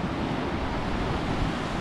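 Steady rush of waves splashing and surging on the rocky North Devon coast at Ilfracombe, with wind buffeting the microphone throughout.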